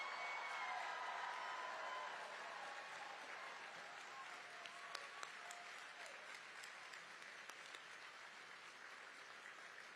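Audience applause at a Nebraska Democratic Party event in a hotel hall, a steady wash of clapping from a large crowd that holds for the whole stretch and slowly thins, with scattered louder claps.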